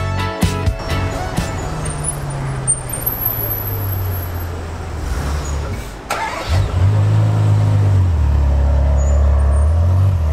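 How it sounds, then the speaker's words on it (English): A Lamborghini Sián FKP-37 supercar in London, loud engine starting with a sharp crank and bark, then a deep rumbling idle that revs up and settles, close and dominant over faint street noise. "this is the Lamborghini Sian, one out of just 63 in the world"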